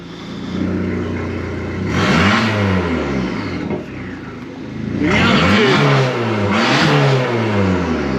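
An Abarth 595 with its catalytic converter removed revs hard in repeated bursts, engine pitch sweeping up and down loudly at close range between idle gaps.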